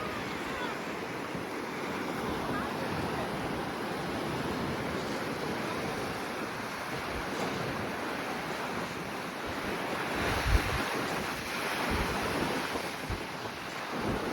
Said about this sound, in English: I could maybe do an ASMR, just the ocean.